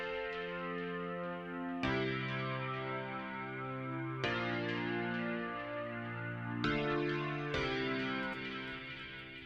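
Clean electric piano playing block chords, four sustained chords struck one after another and left to ring, with no voices.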